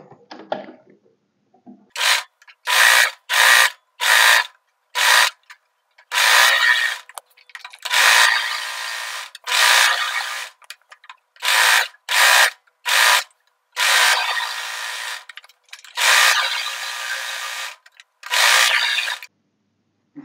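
Sewing machine stitching kurti fabric, a series of loud close mechanical whirring bursts of varying length separated by short pauses.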